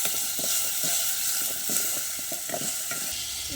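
Green chillies frying in oil in a pan for Gujarati green garlic dal, a steady close sizzle with irregular scraping stirs throughout, no voices.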